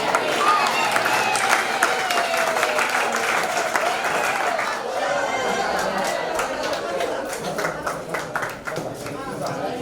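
Audience applause at a teacher's retirement ceremony, a broad crowd clapping steadily throughout with chatter mixed in.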